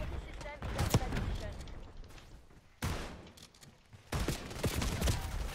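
Automatic weapon fire from Black Ops 6 in bursts of rapid gunshots, broken by short pauses and resuming near and loud, mixed with other game sounds.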